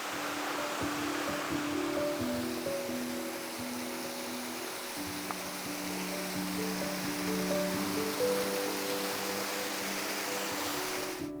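Baş Daşağıl waterfall rushes in a steady broadband roar, heard from nearby among lush surroundings, with faint tonal sounds drifting over it and no talk.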